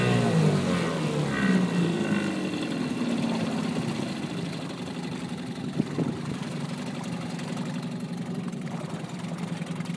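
A 1967 Evinrude Lightwin 3 hp twin-cylinder outboard motor runs steadily at a low idle, a continuous mid-loud drone with no change in pace across the span; one short word is spoken over it.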